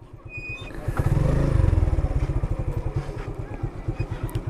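A motorcycle on a rough road in Sylhet chugs with a steady, rapid engine pulse, swelling louder as it passes close, then settling into a rhythmic idle-like throb.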